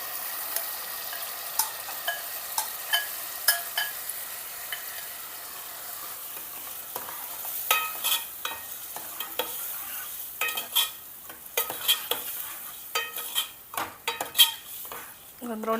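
Dal being stirred into boiling tamarind and jaggery water for rasam, with repeated scraping and clinking of a spoon against the pot over a soft bubbling sizzle, growing busier toward the end; no talking.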